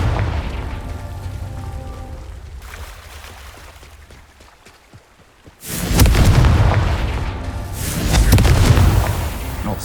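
A Confringo spell bursts in Hogwarts Legacy on PS5 as a deep, heavy boom that swells loudly, followed by a second rumbling blast after a low, quieter lead-in.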